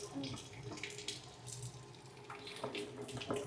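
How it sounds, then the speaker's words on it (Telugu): A tap runs while hands are washed with hand wash, giving a faint, steady splashing stream with no voices over it. "అట్లా హ్యాండ్ వాష్ వేసి కడగాలి."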